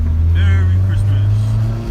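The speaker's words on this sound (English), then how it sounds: "Oh, look at that road spin, or tire spin." Turbocharged Mazdaspeed Protege sleeper with a Garrett GT25/40R turbo, a steady droning engine rumble from inside the car while the tires spin, with people talking over it.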